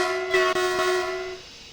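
A red German train in Train Sim World 2 gives a short, steady tonal horn blast of about a second, fairly loud and alone, fading out at the end.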